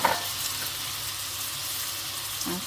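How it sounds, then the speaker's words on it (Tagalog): Squid and green peas sauté in olive oil with a steady, close sizzle and faint stirring scrapes throughout, no voices. "Gisa-gisa lang natin siya sa olive oil."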